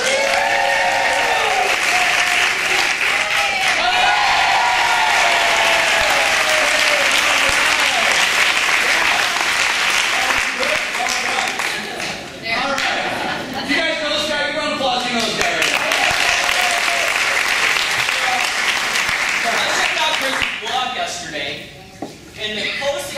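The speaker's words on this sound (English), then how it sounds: "Thanks, round of applause" A large audience gives a sustained round of applause at a live event, a dense, loud wash of clapping and crowd noise that holds steady with brief dips, with voices mixed in.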